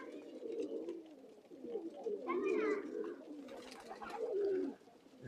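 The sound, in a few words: pigeons cooing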